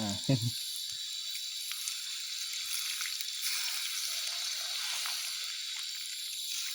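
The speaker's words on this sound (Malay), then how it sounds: "Pas tuh baru kita masukkan air nih guys" Water pours into a cooking pan over a campfire in the forest at night, a steady hiss and trickle with a brief louder splash at the start, running on continuously.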